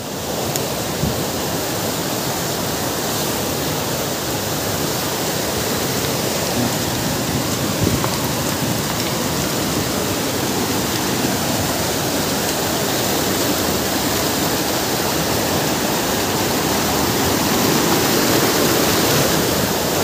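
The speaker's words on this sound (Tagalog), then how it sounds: "Ito yung mahiwagang talon na ang daming pumupunta dito." Waterfall at a forest stream source, a loud steady rushing roar of falling water filling the whole stretch without pause, close by and with no voices.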